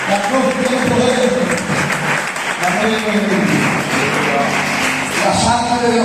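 Church congregation clapping steadily during a sermon about the cross, a dense wash of applause heard beneath a preacher's voice speaking over it the whole time.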